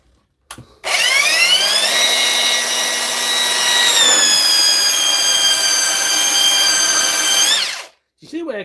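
A brushless Mellif belt sander runs continuously for about seven seconds after a brief start, with a loud, steady whine that climbs slightly in pitch and then stops abruptly.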